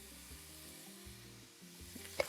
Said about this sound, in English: I'm gonna add about 2 tablespoons of lard. Just let it melt. Add the onion. And the garlic cloves.